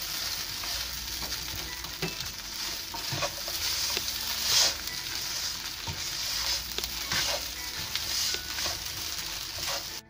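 Poha with coriander leaves and fried peanuts is stirred in a hot pan, giving a continuous soft sizzle dotted with repeated spoon scrapes and taps through the whole stretch, close and alone without speech.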